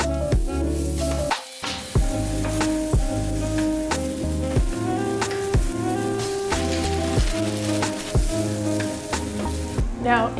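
Rice sizzles and fries in a pan with egg, frozen vegetables, spring onions and garlic, a loud continuous crackle broken by repeated scraping stirs of a utensil against the pan, close up.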